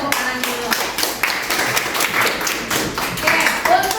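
Students applaud in a geography classroom, a dense burst of many hands clapping at close range for about four seconds, mixed with light voices.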